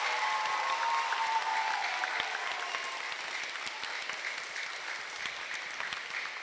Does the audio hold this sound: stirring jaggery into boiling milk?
no